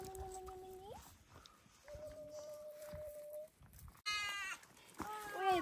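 A young lamb gives two loud, close, wavering bleats in quick succession as it is caught on a mountain trail. Before the bleats there are quieter tonal sounds and faint background noise.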